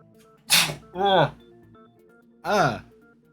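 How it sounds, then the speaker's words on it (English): A sharp, breathy sneeze in the game Danganronpa 2: Goodbye Despair bursts out, followed by two more voiced, sneeze-like exhalations in quick succession, close and fairly loud. "Sneezing."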